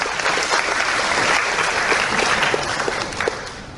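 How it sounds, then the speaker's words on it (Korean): A lecture audience in a hall breaks into applause, a dense and fairly loud burst of many hands clapping together that holds steady throughout and then tapers slightly at the close. "이때 박수 한번 쳐야 돼요."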